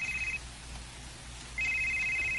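A mobile phone ringing with an incoming call, a steady electronic ring tone that stops briefly and then resumes, moderately loud over a low room hum with no talking.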